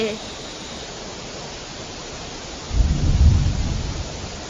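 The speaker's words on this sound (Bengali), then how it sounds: "দেখ, বৃষ্টির জল খড়ের চালের ফাঁক দিয়ে ঘরে ঢুকছে।" Steady rain pours onto a thatched straw roof of a house, with a deep thunder rumble swelling in partway through and then fading under the continuing hiss.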